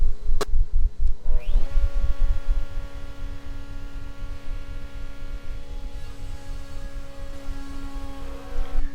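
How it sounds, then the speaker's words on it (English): A mortising machine runs while cutting mortises for a pool table build, its motor spinning up to a steady, close, droning hum with a low throbbing underneath and no talking. "This view of the mortising operation from below the table shows how all the dust and chips is extracted out the bottom."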